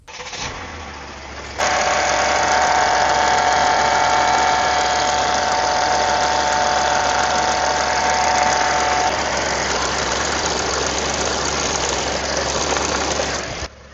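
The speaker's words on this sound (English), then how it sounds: "it's now time to start the engine and add fluid" A Mercedes W164 engine cranks and catches, then settles into a loud, steady idle with a constant rumbling hum that runs on for several seconds.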